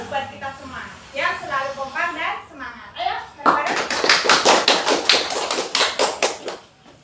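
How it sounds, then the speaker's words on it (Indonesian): Children in a classroom break into a burst of applause, a dense patter of many hands that follows a voice speaking, loud and close, tapering near the end. "Ayo kita sekarang beri aplaus buat kita semua yang selalu kompak dan semangat."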